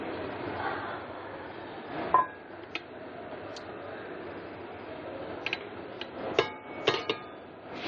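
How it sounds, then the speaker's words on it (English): An iCook non-stick cooking pot has its lid lifted after cooking meat. A few sharp metallic clinks and taps stand out over a quiet kitchen background. "So I'm going to open the lid and show you that it is non-stick."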